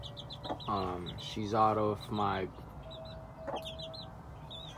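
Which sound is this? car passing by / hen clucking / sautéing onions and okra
hen clucking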